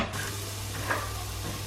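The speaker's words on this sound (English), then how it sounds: "So I'm frying some mustard seeds with ginger, garlic and toasted sesame oil" Mustard seeds, ginger, garlic, onion and bashed lemongrass sticks fry in toasted sesame oil, giving a steady low sizzle and hiss throughout, with a faint stir or pop near the middle.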